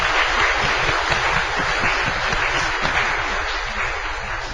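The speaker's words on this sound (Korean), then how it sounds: "하나님께 영광 돌리는 마음으로 박수 한번 하겠습니다." A church congregation applauds in worship, a steady wash of many hands clapping at even loudness that tapers off slightly toward the end.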